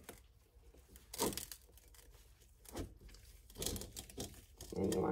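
A plastic bath bomb mold has its sides cut, giving several short crinkly, tearing snips and crunches in separate bursts, close up, with quiet pauses between them.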